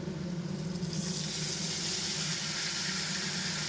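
Spice paste of cumin powder and ginger hitting fried potatoes in a hot pan, a sharp sizzling hiss that swells after the first second and stays loud and steady.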